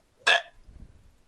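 A single hiccup, short and sharp, pops out close and loud against a quiet room, then fades into faint low rumble.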